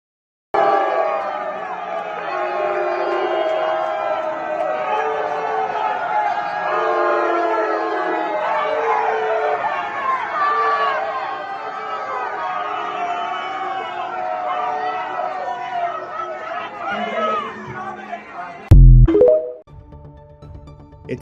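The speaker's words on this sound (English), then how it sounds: "Take a look at this Republican congressman getting booed." A town hall crowd booing and jeering a Republican congressman, a loud sustained roar of many voices that fills the space, then breaks off abruptly near the end.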